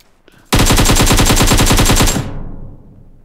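A single sustained burst of rapid automatic gunfire in the video game PUBG Mobile, loud and close, lasting about one and a half seconds, then cut off and trailing into a fading echo.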